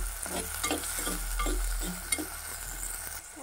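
Onions sautéing in a pan for egg theeyal, a soft, fairly faint sizzle with gentle rhythmic stirring strokes over a low hum, one small clink near the end.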